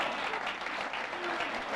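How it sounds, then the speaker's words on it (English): An audience applauds at the 1999 Embassy World Pool Championship semi-final: a dense, continuous burst of many hands clapping, fairly close and even, lasting under two seconds. "The applause is starting."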